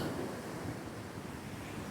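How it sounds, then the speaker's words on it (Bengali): Ocean waves washing onto the shore at Nusa Lembongan, a dense continuous roar of surf and foam with wind noise buffeting the microphone, no voices. "যেমন এই ঢেউটা।"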